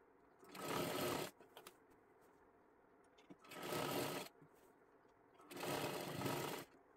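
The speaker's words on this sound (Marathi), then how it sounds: "इथे आपल्याला परत एकदा डबल शिलाई मारून घ्यायची आहे पूर्ण घेरला" A sewing machine double-stitches all the way around the round joined seam of a girl's kathpadar sari one-piece dress, running in three steady bursts of about a second each with quiet pauses between.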